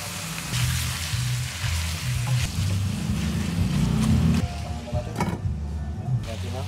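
Chicken pieces dropped into a hot pan with onion and tomato paste, a hissing sizzle with light splashy crackle that swells near the middle and then settles, under a low background hum.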